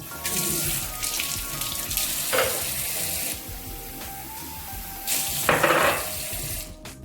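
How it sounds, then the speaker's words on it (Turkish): Running water from a tap pours in a thin stream over raw meat in a bowl, steady and close for several seconds with brief louder splashes as it hits the meat, no talking. "Yıkamadan şöyle üzerine çok az biraz su gezdireceğim."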